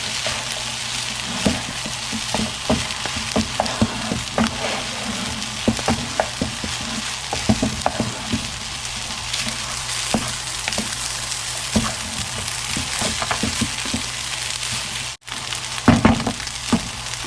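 Cooked egg is stirred into rice in a hot frying pan, giving a steady loud sizzle with frequent spatula scrapes and taps against the pan. The sound is close, with no speech.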